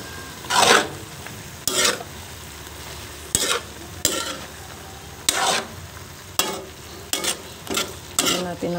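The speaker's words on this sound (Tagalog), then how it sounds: "Tingnan natin kumukulo na." Ginisang upo (sautéed bottle gourd) cooking in a pan, a soft continuous sizzle broken by about ten sharp scraping stirs of a utensil against the pan, close and fairly quiet.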